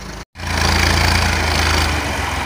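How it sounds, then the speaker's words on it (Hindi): An old Massey Ferguson 240 tractor engine running steadily at a loud, close, rumbling drone with a brief cut near the start, no voices over it, while the tractor fills in soil. "अब इस ट्रैक्टर की मदद से इसको भर रहे"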